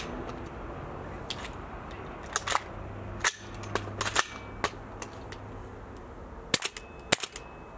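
A gel blaster (MWC) with a freezing-cold magazine fires only now and then, giving scattered sharp snapping shots with irregular gaps, several in quick pairs, over a quiet background hum.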